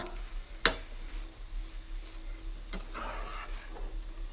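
Shavige bhath vermicelli with fresh grated coconut is stirred in a pan, a soft continuous scraping and light sizzle with two sharper clacks of the spoon against the pan, close and fairly quiet with no talking.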